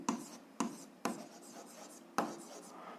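A solution to an algebra exercise is written out by hand, pen or chalk strokes landing in a few distinct taps and short scratches at uneven intervals, close and quiet with no talking over them.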